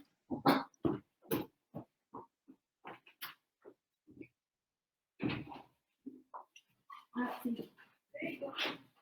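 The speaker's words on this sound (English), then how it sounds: "Somebody's just rung my doorbell and my dog's gone mad." A pet dog barks, yips and whimpers in agitated bursts at home after a doorbell ring, moderately close, with someone talking in between the outbursts.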